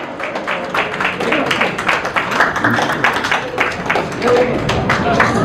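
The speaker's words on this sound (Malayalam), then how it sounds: "Give them a big round of applause." Crowd applause for the grandparents at a baptism ceremony, steady scattered clapping from a gathered audience that continues throughout at moderate loudness with a faint voice underneath.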